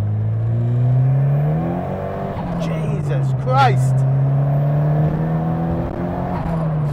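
Ford Sapphire Cosworth, tuned to roughly 380 to 400 brake horsepower, revs hard and accelerates with a rising, loud engine note. A voice exclaims over the engine partway through.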